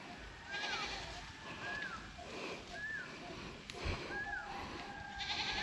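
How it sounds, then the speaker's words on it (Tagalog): Goats on a rural hillside in Romblon bleat several times in short, rising calls spaced about a second apart, moderately distant over a quiet outdoor background. "Ang daming kambing"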